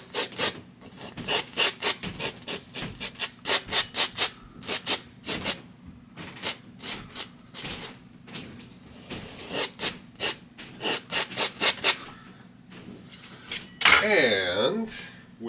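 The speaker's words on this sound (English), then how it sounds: "Scrape away the residue." A palette knife scrapes oil paint residue from a painting surface in quick rasping strokes, loud and close, with short pauses between bursts and a brief tap near the end.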